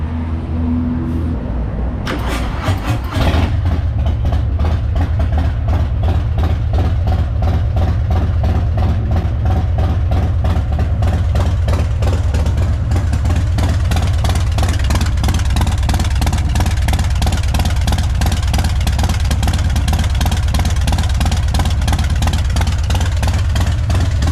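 Harley-Davidson motorcycle fitted with an S&S cam kit, its engine starting up and then running with a steady, loud, low rumbling throb, close by and alone.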